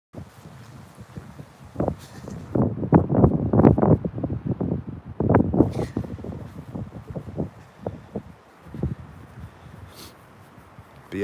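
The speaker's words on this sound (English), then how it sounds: "it's getting windy again as I walk up to the street" Wind gusts outdoors on a street, buffeting the microphone in uneven rushes that swell loudest midway and then ease to a lighter, steadier blow.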